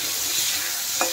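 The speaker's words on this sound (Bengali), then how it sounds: "এখন আলুটা একটু নেড়ে দেবো" Potatoes sizzle steadily in hot oil in a pan, part of a fish curry with potato and eggplant, with a brief scrape of stirring near the end; close, continuous, no talk.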